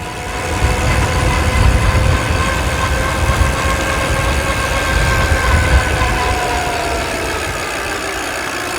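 Electric bike with a skateboard motor and a 3D-printed pulley climbing a hill on throttle alone, a steady whine with rising and falling tones over road and wind rumble, close and continuous.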